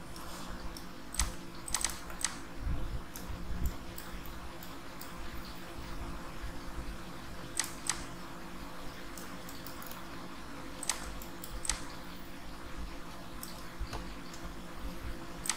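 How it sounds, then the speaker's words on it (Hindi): Keys on a computer keyboard pressed in scattered clusters and single taps during 3D modeling work in Autodesk Maya, with steady low hum behind and no talking. "मैंने उसे डिलीट कर दिया कीबोर्ड में डिलीट बटन दबाकर।"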